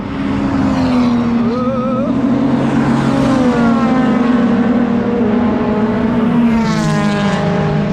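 Loud Vauxhall Vectra race car at Silverstone, its engine droning steadily with shifting pitch as it drives past, sustained throughout at close range.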